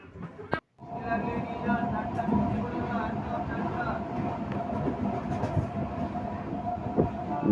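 Steady rumble and rhythmic clatter of a running train heard from inside a carriage, continuous and fairly loud, with faint voices in the background.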